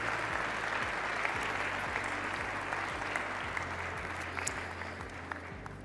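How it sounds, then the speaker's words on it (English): A large audience applauds at a Saudi-US investment forum in Riyadh, dense sustained clapping that stays loud and even, then eases slightly toward the end, with a faint low hum beneath. "Ladies and gentlemen, a big round of applause"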